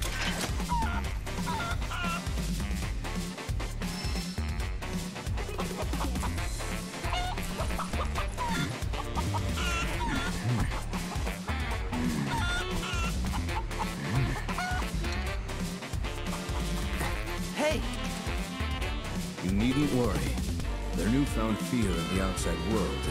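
Chickens cluck and fowl chatter inside the video game Final Fantasy VII Rebirth, a busy run of calls layered with game music and other effects throughout, with a dog-like bark mixed in.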